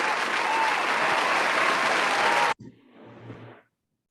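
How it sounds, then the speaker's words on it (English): Members of a Toastmasters club meeting applaud award winners, a loud, sustained burst of many hands clapping that cuts off abruptly, followed by faint room sound and a brief murmur before silence. "Give them a big round of applause."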